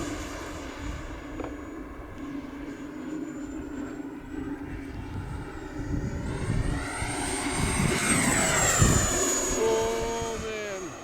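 A Havoc Xe RC jet flies overhead with a steady, loud whooshing turbine roar and a high whine that rises and swells as it passes, while a voice talks faintly underneath.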